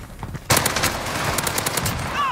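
Fast automatic fire from MAC-10 and AMP-63 in Warzone, a loud, close, rattling stream of rapid shots that starts suddenly and keeps going, with a brief voice beneath.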